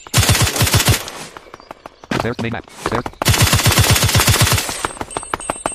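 Rapid machine gun fire in the online shooting game Bloodstorm rattles in two long, loud bursts of evenly spaced shots, broken by a short gap, while someone talks over the action.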